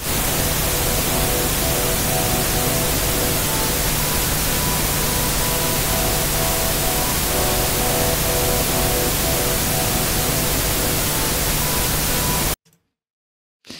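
A loud, steady wash of pink noise runs unbroken for about twelve seconds, then cuts off abruptly into near silence.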